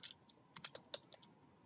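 Quick bursts of key clicks on a computer keyboard, a short irregular run of light taps heard close and fairly quiet, with no one speaking.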